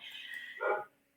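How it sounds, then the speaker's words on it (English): Dogs barking indoors in the background of a home, a short burst of yelping barks over a steady hiss, fading out after about a second. "I do apologize about the dogs."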